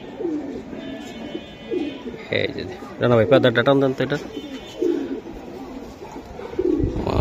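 Racing pigeons cooing at a loft, repeated low throaty coos, one longer close burst in the middle, mixed with someone talking over them.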